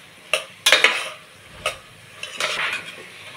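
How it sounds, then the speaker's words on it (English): A spoon stirring Ruhi fish curry with turmeric in a pan makes a few separate scraping knocks against the metal over a faint sizzle, close and moderately loud. "Now we are going to stir it till the oil separates from this curry."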